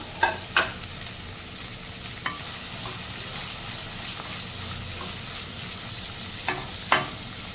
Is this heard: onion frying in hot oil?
yes